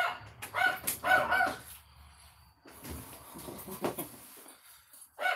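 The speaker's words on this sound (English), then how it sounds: "Dog." A dog barks in a few sharp bursts close by, with quieter gaps and shuffling between them, then one more bark at the end; no talking.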